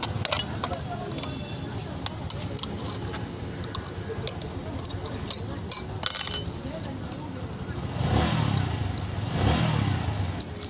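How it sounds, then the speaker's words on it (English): Metal clinks and tool clatter from bolts being loosened on a motorcycle's rear sprocket and hub during a chain kit change, with brief sharp knocks midway and a broadband rush later on. "So now all the bolts are being loosened so that they can be separated from the sprocket and the hub"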